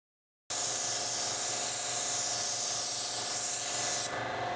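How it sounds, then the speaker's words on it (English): A spray gun with a 1.3 tip atomizes clear coat onto a car panel in a loud, steady, close hiss that starts abruptly, holds for several seconds, then drops slightly at the end. "spraying clear coat and getting a glass-like finish is all about atomization of your clear"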